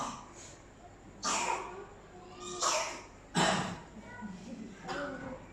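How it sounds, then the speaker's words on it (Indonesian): A person gives a few separate raspy coughs, heavy like a smoker's cough, spaced a second or two apart, fairly close and moderately loud against a quiet room background. "Batuk kayak kebanyakan rokok"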